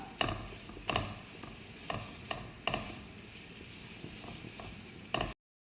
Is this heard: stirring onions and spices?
yes